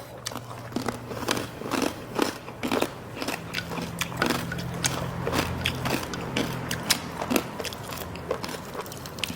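Crunchy salad with roselle is chewed close up, giving a quick series of crisp bites and crackling crunches in an uneven rhythm.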